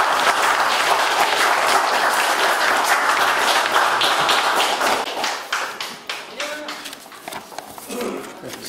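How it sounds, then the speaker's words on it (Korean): An audience at a political academy special lecture claps to welcome the lecturer, a loud dense burst that thins into scattered individual claps in the last few seconds. "손정배 민주평화연구장님께 큰 박수 부탁드리겠습니다."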